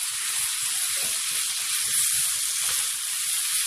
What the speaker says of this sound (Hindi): अब मैं इसमें ऐड करूँगी अपना कीमा